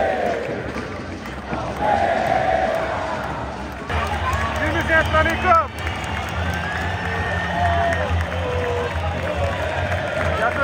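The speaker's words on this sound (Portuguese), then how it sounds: "a mancha não para de cantar um minuto, rapaziada" Corinthians supporters' group Mancha chants nonstop in a packed stadium before a Palmeiras vs Corinthians derby, a dense roar of massed voices with a voice talking close over it.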